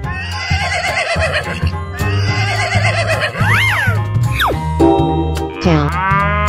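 Horse neighing amid a kids' animal-sound sequence, with rising and falling whinny calls over a steady musical backing, loud and close.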